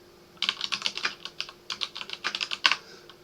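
Quick, uneven keystrokes on a computer keyboard while writing in a Docker debug terminal, a close run of clicky taps in short bursts with one harder press near the end.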